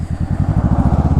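Honda Rebel motorcycle fitted with a Shorty GP slip-on exhaust idling up close, a loud, deep, even thumping pulse repeating rapidly and steadily throughout.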